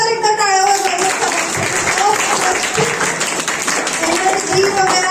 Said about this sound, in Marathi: सगळ्यांनी जोरदार एकदा टाळ्या वाजवायच्या